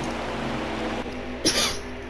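A single short cough, close and brief, breaks in near the end of a quiet stretch from a NASCAR Heat 4 game commentator.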